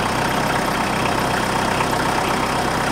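A tractor engine idles nearby with a steady, rumbling, constant, even drone and no change in pitch.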